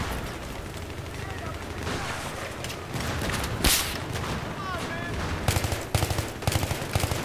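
Gunfire in the video game Battlefield 3, dense crackling bursts and sharp shots spread through the clip, with a few louder reports near the end, under a continuous game background.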